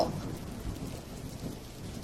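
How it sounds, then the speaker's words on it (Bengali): Heavy rain falling steadily with deep thunder rumbling underneath, a faint, continuous wash of sound with no voices. "বাইরে তো খুব বৃষ্টি হচ্ছে"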